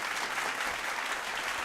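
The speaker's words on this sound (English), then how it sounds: "Look, round of applause." A short burst of steady applause from a crowd, even and continuous, with no voices standing out over it.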